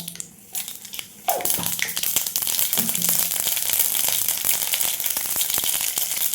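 Mustard seeds dropped into hot oil in a pan, starting quietly and then bursting into a loud, dense spluttering crackle that runs continuously with sharp pops.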